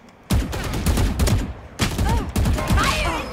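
Rapid bursts of gunfire in a shooter video game, loud and close, three separate volleys cutting in sharply with echoing tails.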